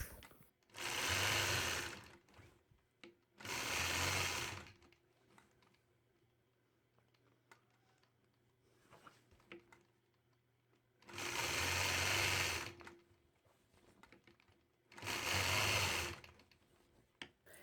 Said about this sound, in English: I'll continue stitching those corners in all 4 sides of my quilt block